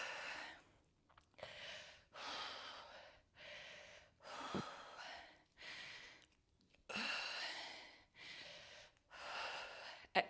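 Deep breathing during a full-body workout: slow, audible inhales and exhales repeat in a steady rhythm, close and fairly quiet, with short pauses between breaths.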